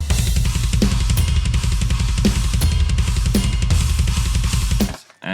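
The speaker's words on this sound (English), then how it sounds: "And the drums before being mixed, they already sound like this." Unmixed MIDI-programmed drum track playing a steady fast beat with rapid kick drum, regular snare hits and cymbal wash, loud and full, cutting off abruptly at the end.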